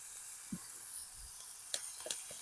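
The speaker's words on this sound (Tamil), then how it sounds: "இந்த தக்காளி பழம் கொஞ்சம் அவியும் எண்ணெயிலேயே அவியும் அவிஞ்சு நல்லா வதங்கும்" Tomatoes sauté in hot oil for a village-style fish curry, a faint steady sizzle with a few soft stirring clicks and no talking.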